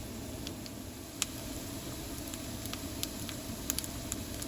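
Tofu frying in a skillet while cooking inside a van, a steady soft sizzle with faint crackles and occasional small pops, no voices.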